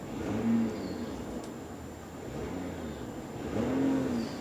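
A 2018 Ram Laramie diesel engine idles faintly, then revs up twice in brief rising swells, one early and one near the end. The revs stand out over a low, steady engine hum.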